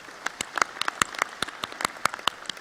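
Sparse, uneven clapping from an audience at a leadership training event, a handful of distinct sharp claps scattered across the stretch rather than a full ovation.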